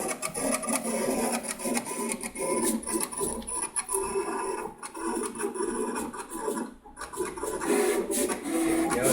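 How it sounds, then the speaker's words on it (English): A vinyl cutter running at 20 inches per second slices an inkjet vinyl sheet, producing continuous scratchy, rasping carriage movement with quick ticks and short whirring passes, fairly close and steady throughout without talk. "we are running the cutter at 20 inches per second"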